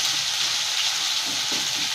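Ground spices hit hot oil in a spicy Indian chicken gravy, giving a loud, steady, close hiss of frying that holds throughout with faint stirring underneath.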